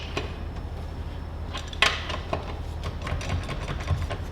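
Wheel bolts being snugged up on a car wheel, a few metallic clicks and ratcheting taps with a sharp clink near the middle, close and fairly quiet over low background hum.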